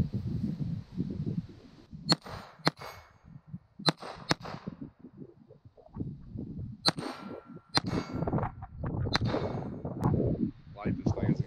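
.22 hammer-fired pistol shots ring out as sharp, metallic cracks striking a target, about seven spaced irregularly, mixed with low rumbling handling noise and muffled voices between them.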